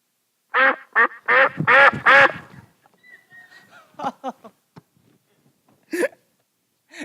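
Several ducks quack in a quick burst as they fly low overhead, loud and close, followed by scattered fainter quacks and one more sharp call.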